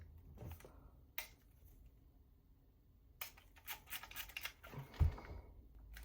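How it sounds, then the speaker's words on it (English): A few sharp, quiet mechanical clicks from a sticky Olympus XA2 camera shutter release, one isolated then a cluster of rapid ones, with soft handling noises in a quiet room. "It just seems to be a very sticky shutter here."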